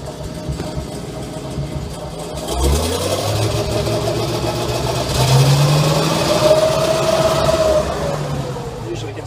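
A tank's engine cranks and starts, settling into a loud, deep running rumble that swells in pitch partway through, with people talking near it.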